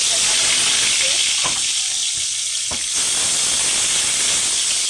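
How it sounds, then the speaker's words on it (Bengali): Rohu fish fries in mustard oil in a wok, giving a loud, continuous sizzle and hiss with a couple of brief sharp clicks partway through. "অল্প অল্প করে মাছগুলো ভেজে নেব।"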